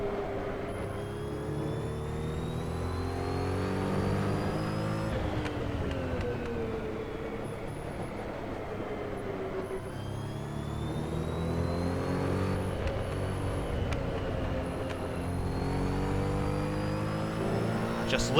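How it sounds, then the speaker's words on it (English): Porsche 917K race car in the Assetto Corsa racing game, its engine howling at high revs with rising pitch sweeps through each gear, dropping briefly at shifts, loud and continuous. "Just listen to that engine."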